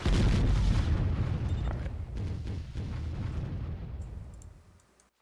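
Mortar fire and explosions in the strategy game Warzone 2100, a heavy booming roar that rolls and fades out over several seconds, with a brief spoken word.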